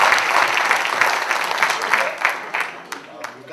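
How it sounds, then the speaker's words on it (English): Audience at an e-commerce business conference applauding, a steady wash of clapping that tapers off near the end as a voice begins to speak. "So definitely big round of applause."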